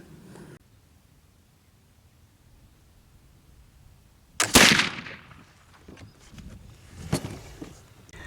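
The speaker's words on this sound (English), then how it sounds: "Ironwood, single source charcoal, first shot." A black powder gun loaded with Ironwood single source charcoal fires once, a sharp, loud near blast with a brief decaying tail, followed by faint handling noises and a smaller knock.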